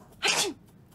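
A single sharp sneeze, short and close, bursting out of near silence.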